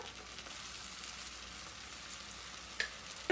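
Onion browning in a pan with salt and ginger-garlic paste, a faint, steady, rain-like sizzle with a single small clink near the end and no talking.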